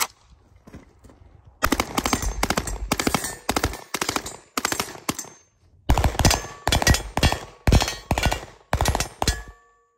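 An HK MP5 fires tracer rounds at steel plates outdoors in a string of loud, close bursts, each a rapid crackling volley with short gaps between, the hits ringing off the metal targets; no talking.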